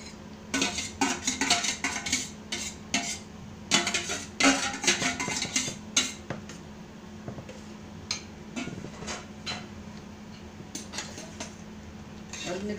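Pav bhaji vegetables and ingredients being mixed on a tava pan with a metal spatula, giving repeated close scraping and clinking bursts in an uneven rhythm, with quieter stretches between strokes and no voice.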